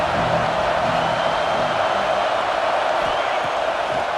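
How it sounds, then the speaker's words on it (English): A dense, steady roar of a large stadium crowd at Happy Valley on third down in the video game EA Sports College Football 26 fills the space continuously, loud and unbroken, with no clear individual voices standing out. "Here comes the noise from this big crowd in Happy Valley on 3rd down."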